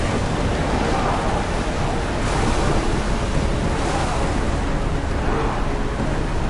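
An oared ship sails over open sea waves in the video game Assassin's Creed Odyssey, giving a loud, continuous wash of surf and wind that roars steadily throughout.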